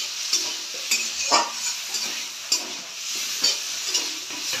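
Spice pastes of green chilli and chilli powder fry and sizzle in a pan for a fish curry, with a steady hiss and a spoon scraping and stirring at regular intervals, close and alone.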